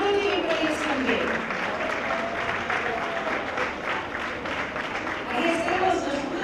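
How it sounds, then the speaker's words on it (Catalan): Audience applause at a ceremony honouring women textile workers in Taradell, a continuous crowd clapping with voices and chatter running underneath. "Una aplaudiment per elles també."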